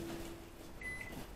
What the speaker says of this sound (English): We're going to go put it in the microwave for 5 minutes.